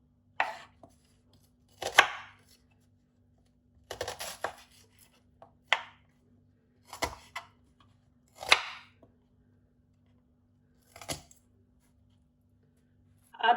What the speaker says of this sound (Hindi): प्याज को भी हम वैसे ही काटेंगे।